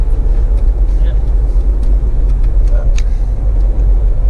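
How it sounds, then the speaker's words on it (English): A car driving through town at one in the morning, its steady low engine and road rumble droning throughout, close and continuous, with faint muffled sounds above it. "it's 10 past 1 in the morning right now, and we're just driving around"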